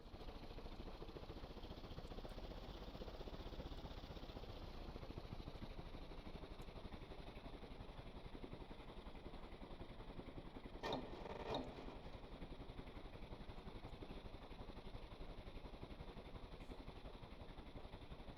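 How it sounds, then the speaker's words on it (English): A steady low mechanical engine drone of a plane in the video game Stormworks runs unbroken throughout, with a couple of brief clicks partway through and no clear stall. "So we should hear that stalling noise."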